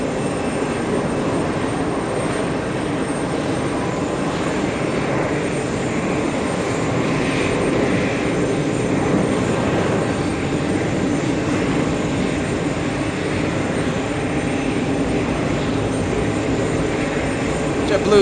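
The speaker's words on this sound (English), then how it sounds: "Jetblue 1677 heading to Jacksonville. That's an A320." A JetBlue Airbus A320 at JFK gives a loud, sustained jet engine roar that swells slightly midway. People talk underneath it.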